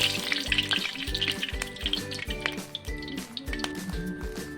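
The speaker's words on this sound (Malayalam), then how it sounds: "100 ഗ്രാം എള്ളെണ്ണ ഒഴിച്ച് കൊടുക്കണം" Sesame oil meets a hot pan for a lemon pickle with ginger, garlic and green chillies, giving a steady close sizzle with wet crackles, drips and stirring scrapes throughout.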